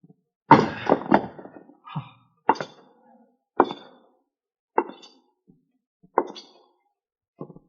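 A radio drama sound effect of a pistol being thrown in, a cluster of sharp wooden thunks and knocks followed by several separate, isolated thuds spaced a second or so apart against silence.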